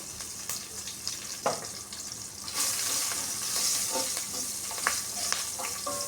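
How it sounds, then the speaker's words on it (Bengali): Dried red chillies, bay leaf and panch phoron crackle and sizzle in hot oil with a steady bright hiss, punctuated by sharp pops and occasional spoon scrapes, the sizzle intensifying partway through. "একই তেলে দিয়ে দিব শুকনা লঙ্কা দিয়ে দিব তেজপাতা পাঁচফোড়ন দিয়ে দিচ্ছি কাঁচা লঙ্কা"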